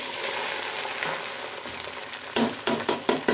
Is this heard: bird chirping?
no